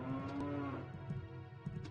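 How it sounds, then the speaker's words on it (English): A cow switch in the Jabu dungeon of the video game Zelda Ocarina of Time 3D gives a drawn-out low moo, clear and close, tailing off into a couple of soft game clicks. "So here in Jabu, there are these cow switches."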